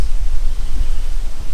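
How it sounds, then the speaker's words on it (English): Strong wind blows outdoors, making a steady, loud rumbling buffet against the microphone with no other clear sounds. "It's crazy windy as well."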